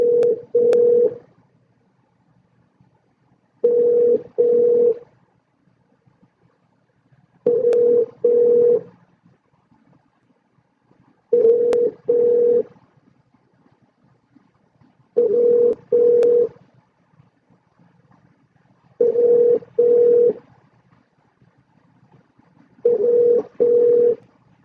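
A telephone ringback tone repeats on a call transferred to a business's service manager, seven double-ring bursts spaced evenly a few seconds apart, steady and clear with quiet gaps and no answer.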